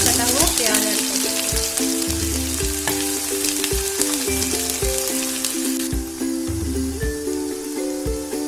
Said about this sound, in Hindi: अब हम इसमें एक कटा हुआ प्याज ऐड करेंगे